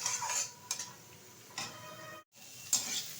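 Mixed vegetables and greens being stirred and fried in a pan, with soft scraping and clinking of a utensil against the pan, a few louder knocks, and a faint sizzle underneath.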